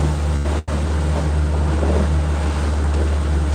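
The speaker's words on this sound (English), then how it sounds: "this is a racing, an absolute race of water right here" Rough turbulent water rushes around a motorboat at sea, with a constant loud engine drone and wind over churning waves, broken by one brief dropout.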